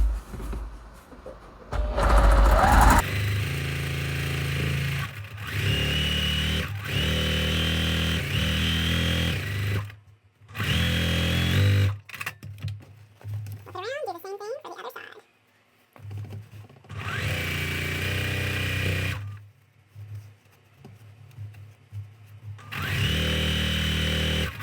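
A sewing machine stitches quilt seams for a sampler quilt in short motorized bursts separated by pauses, with a voice talking between the runs.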